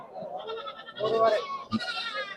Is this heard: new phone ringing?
no